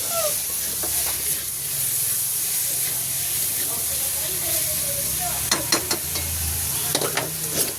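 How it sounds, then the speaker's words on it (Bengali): Food being sautéed and stirred in a pan over a long stretch, heard as a constant close hiss and sizzle, with a few scraping clinks of a utensil against the pan toward the end and faint talk in the background. "এই দেখুন ছেলে কিন্তু কষাচ্ছে, খুব কষাচ্ছে অনেকক্ষণ ধরে"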